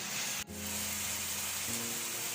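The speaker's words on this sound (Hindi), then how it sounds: "मैं शामिल करूंगी लहसुन अदरक का पेस्ट और थोड़ा भून लूंगी।" Garlic ginger paste sizzles steadily in a hot pan with oil, a close, continuous frying hiss broken by one brief clack partway through.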